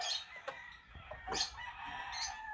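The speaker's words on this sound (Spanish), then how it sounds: "Ahí está el gallo, hermoso" A gamecock crows faintly from a distance, a few drawn-out calls over a noisy outdoor background at a gamecock farm.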